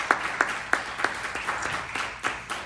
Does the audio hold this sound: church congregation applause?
yes